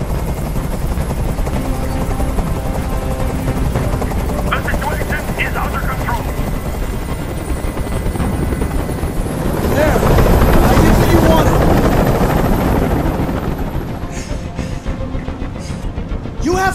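Helicopter hovering overhead in the video game Detroit: Become Human, a steady loud rotor drone throughout that swells louder for a few seconds midway, with game voices speaking over it.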